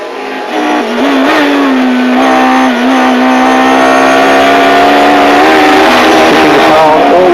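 A Mercedes 190E Evo-2 DTM race car howls at high speed around the Nürburgring Nordschleife, its engine note loud, close and sustained, shifting pitch slightly as it rises and holds through the bends.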